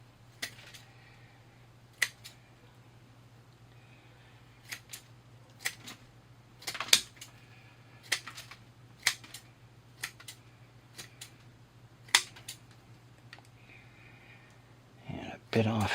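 Sharpened scissors prune a Serissa bonsai, giving isolated crisp snips spaced irregularly over a steady low hum, with a cluster of quicker cuts near the end and no talking.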